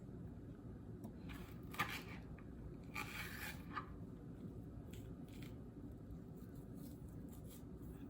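A knife slices chili peppers on a cutting board for spicy Indonesian eggplant balado, producing several short, crisp scraping cuts in irregular bursts over a low background rumble. Nobody speaks.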